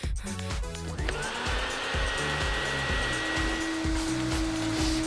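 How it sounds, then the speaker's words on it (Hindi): A vacuum cleaner runs continuously with a loud, steady motor whine and a rapid, rhythmic pulsing underneath, with no voices. "वैक्यूम क्लीनर मॉली की मदद कर सकता है। वो गंदगी साफ करता है"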